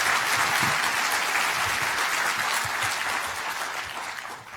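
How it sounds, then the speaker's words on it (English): Audience at the opening session of an academic engineering conference clapping steadily in a large hall, a fairly even wash of applause that gradually thins and fades toward the end. "a round of applause for Rafik and his team"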